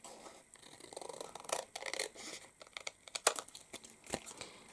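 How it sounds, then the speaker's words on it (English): Crisp paper rustling and snipping as long-bladed scissors trim a die-cut paper panel, with short sharp cuts and crinkles close by, irregular in rhythm, no voices. "take our long bladed pair of scissors and trim right up to the edge of that rectangle"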